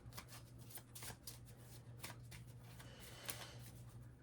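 Zodiac cards being shuffled and pulled close by, a faint, soft run of riffling and sliding strokes in an uneven rhythm with a few sharper snaps, alone over a low steady hum.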